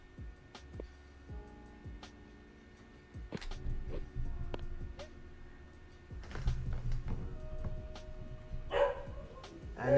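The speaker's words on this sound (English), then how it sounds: "the dogs are going at it again" Dogs barking in short, scattered yelps and barks at moderate distance, with irregular bursts and a louder flurry near the end, over a steady background hum.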